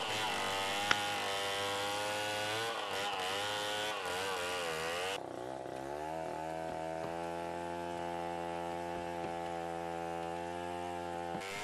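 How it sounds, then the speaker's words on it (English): A chainsaw engine cutting wood runs steadily with a high, buzzing whine that shifts pitch partway through, then settles into a constant drone. "This is so the chainsaw can be used to reduce the wood quicker."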